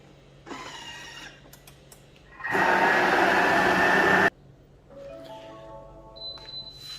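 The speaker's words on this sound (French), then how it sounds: "on va mixer tout ça pendant 20 secondes, vitesse 5." A kitchen mixer blends halwa cake mixture at speed 5 in a loud, roughly two-second whirring burst, bracketed by quieter clicks and handling sounds.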